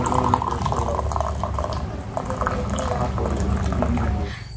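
Milk tea poured into a glass and then a cup, a continuous liquid gurgle and trickle with faint clinks, fairly close and steady throughout.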